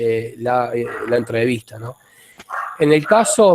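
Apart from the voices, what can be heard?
neighbor's dog barking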